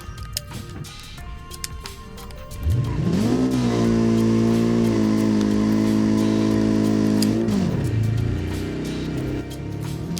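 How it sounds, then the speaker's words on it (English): Hirochi CCF car in a video game doing a burnout: the engine surges to a loud sustained high rev with steady harmonic drone for several seconds, then drops back down. "let me do a quick burnout"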